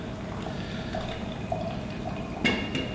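Hot water poured over a paper filter in a Hario V60 to rinse it and warm the cone and server below, a soft steady trickle and patter running throughout, close and fairly quiet, with a couple of brighter splashes near the end.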